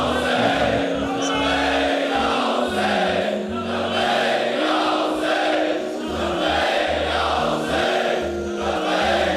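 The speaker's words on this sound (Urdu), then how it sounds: "یہ نعرے جو لگ رہے ہیں" A rally crowd chants slogans in rhythmic, repeated surges of many voices, loud and steady, with the chant rising and falling in waves throughout.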